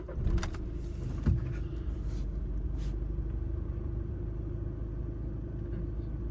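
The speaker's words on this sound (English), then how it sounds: "to start the car with the lights turned off" A Volkswagen Golf Mk6 engine turns over and settles into a steady, low idle rumble, with a brief knock just after the start, close by and without talk.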